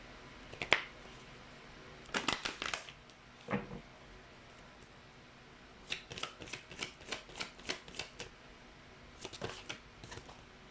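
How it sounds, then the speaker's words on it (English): Fortune cards are shuffled in several quick riffling bursts, close and crisp, separated by brief pauses, with no talking. "let's get some fortune cards for you"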